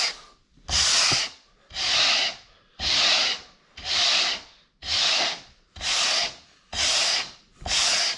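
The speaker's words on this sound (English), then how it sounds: "So what I do is I take a block sander" A block sander rubbed along the edge of a wooden cabinet door panel in eight even, loud strokes, each a rasping sweep with brief pauses between, close up and with no voices.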